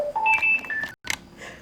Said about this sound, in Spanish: En este momento llamó el teléfono y hubo que atenderlo.